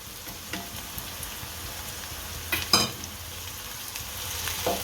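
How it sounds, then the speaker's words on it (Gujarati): Onions and tomatoes frying in a pan for Gujarati sev usal, a steady faint sizzle with a few louder stirring scrapes partway through and no voices. "આપણા કાંદા સડી ગયા છે આ ટમેટા નાખશું"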